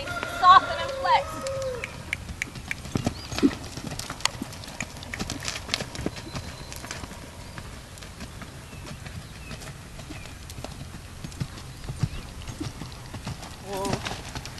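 A horse trotting in a warm-up session, a steady run of hoof clip-clops, rhythmic but fairly faint, with a voice heard briefly near the start and a bird now and then.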